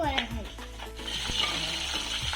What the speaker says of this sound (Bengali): এই যে এখানে ডিম ভাজা চলছে।